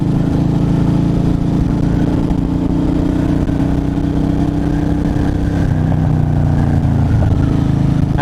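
Harley-Davidson Dyna Wide Glide motorcycle ridden over rough, broken roads, its engine a steady, loud low rumble throughout with constant road and wind noise, no talking.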